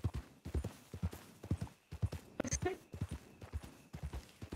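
Horse hooves clip-clop in a steady, rhythmic trot through a Western roleplay game set near the Blackwater sheriff's office, mid-distance and fairly quiet, with a little voice chatter in the background.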